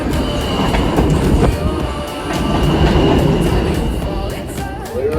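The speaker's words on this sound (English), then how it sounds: "As it comes onto the platform, here is our E train" A New York City E subway train rumbles steadily along the platform with rhythmic rail clatter and a faint metallic squeal of wheels near the end.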